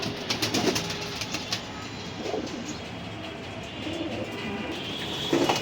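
Racer pigeons coo softly in a loft, a steady low murmur of several birds with occasional louder calls and background hum, no voices.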